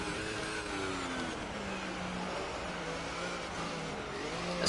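An F1 car engine in the F1 2018 racing game at the Austrian GP, a loud continuous high-pitched whine with shifting revs throughout, no talking.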